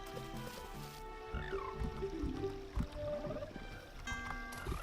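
Frog croaks from Zelda: Ocarina of Time, a series of short rising and falling synthetic croaking tones over a soft watery backdrop, moderately quiet and irregular, with no talk.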